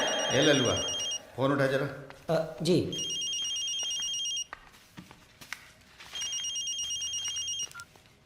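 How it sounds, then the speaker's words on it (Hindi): A telephone rings in repeated electronic bursts, moderately loud and close, while people talk over the first rings before the ringing continues alone. "फोन उठा जरा।"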